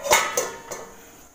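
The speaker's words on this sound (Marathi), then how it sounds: "आपण झाकण ठेवूया" A lid goes onto a cooking pot with three quick metallic clanks, loudest at the first, each ringing briefly before fading out, close by with no speech.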